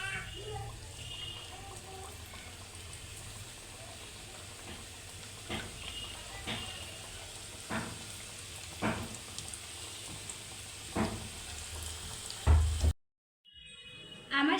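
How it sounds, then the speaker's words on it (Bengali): Homemade mini singaras fry in hot oil with a continuous close sizzle. Sharp pops and stirring clatters recur every second or two, and a sudden cut to near silence comes at the end. "আমার তেল গরম হয়ে গেছে, এবার আমি সিঙ্গারা ছেড়ে দেবো তেলে।"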